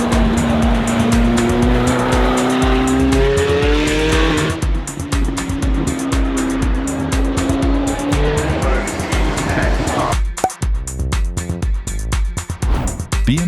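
Zenvo TS1 GT sports car driving hard: a loud engine climbs and falls in pitch through gears with screeching tires, a steady roar throughout and a brief drop near the end.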